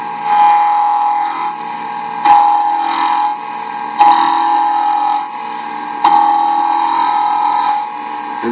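Roughing gouge cutting a square wooden spindle on a lathe, a steady whine with scraping cuts that swell and ease in four passes, close and fairly loud.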